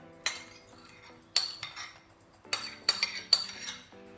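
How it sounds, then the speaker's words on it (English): Sugar, cocoa powder, baking powder and butter are stirred together in a bowl for chocolate cupcakes, with a utensil clinking against the bowl in a handful of sharp, quiet, irregular taps and no voices. "we're just gonna mix this all together until the dry ingredients are all incorporated with the butter"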